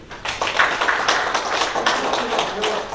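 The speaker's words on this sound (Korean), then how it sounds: "박수 한번 부탁드립니다" Clapping from a crowd at a community meeting, a steady patter of many hands for about three seconds, fairly close, with a hint of voices mixed in.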